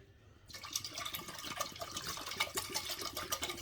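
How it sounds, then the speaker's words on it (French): Water from two half-litre bottles pours into a pot after a brief quiet start, a continuous close splashing and gurgling stream for several seconds. "Donc je verse mes 2 bouteilles."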